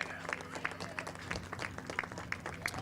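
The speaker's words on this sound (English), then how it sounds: "one big final round of applause for Mini 60 under 10" Applause at a karting podium ceremony for young Mini 60 drivers, a quiet, scattered outdoor clapping with distinct claps punctuating a steady low hum, heard at a distance.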